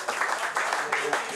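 Audience applause for a singer and his band playing live at a radio broadcast in Amsterdam, a brief dense burst of clapping with cheering voices mixed in.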